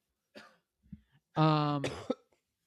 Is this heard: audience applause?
no